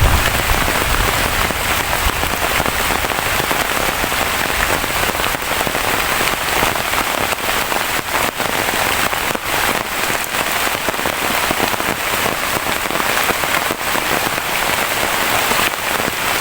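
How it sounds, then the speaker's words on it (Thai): Steady heavy rain falls in a forest, a dense, unbroken hiss of drops pattering on leaves and surfaces, loud and close throughout with no break and no talk. "ตอนนี้ถือว่าฝนยังตกครับท่านผู้ชม"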